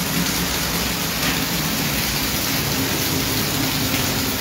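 Heavy rain pours steadily in Tamaulipas, Mexico, a dense, loud, unbroken hiss of water hitting surfaces with no speech.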